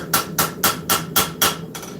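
Rapid, regular hammer blows land on the spine of a steel knife resting on an anvil hump, six bright metallic strikes in quick succession, close and loud.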